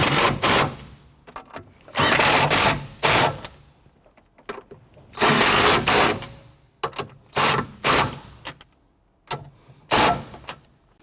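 A hand ratchet tightens nuts onto the strut studs of a 1992-1996 Toyota Camry during a rear strut assembly replacement, heard as several close bursts of rapid clicking separated by short pauses.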